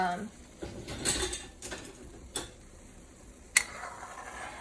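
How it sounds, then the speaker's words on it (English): Big belly dumplings stirred gently in a pot of water make a few faint, scattered clinks and taps of a spoon against the pot over a quiet background. "So you need to keep stirring."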